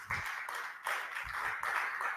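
Church congregation clapping after a sermon, a steady patter of hands that stays fairly faint and distant, with no talk over it.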